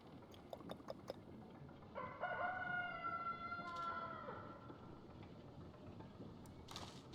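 A rooster crows in the farming video game Palia, one drawn-out crow of about two seconds rising over a faint, steady background, with a few short clicks before and after.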